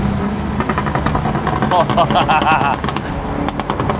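BMW 335i engine and exhaust, a loud continuous rumble running throughout the short stretch, with someone talking over it.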